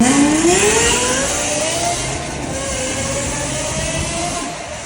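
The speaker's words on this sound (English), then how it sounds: "This car comes stock with a 550 horsepower V10 We actually took the exhaust off of it and installed kind of an aftermarket exhaust" A 550 horsepower V10 car fitted with an aftermarket exhaust, loud and close, its engine note sweeping upward in one long rising rev and then holding a high, steady scream.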